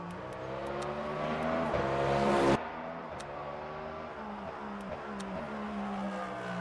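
A race car engine in the Le Mans Ultimate video game drones and revs in steady shifts, the pitch climbing and dropping between gear changes, fairly quiet and with no talking.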